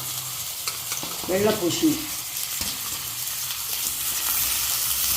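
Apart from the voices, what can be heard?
sautéing vegetables in a pan for Thanjavur sambar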